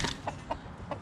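Village chickens cluck in short, separate calls, three or four quick bursts spaced across a brief moment, fairly close and alone without talk.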